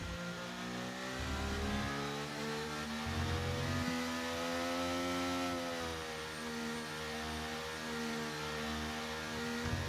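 A Mercedes race car engine on a track, heard as a loud, sustained mid-pitched roar that rises and falls through several revving surges and gear changes, fairly close and alone without talk.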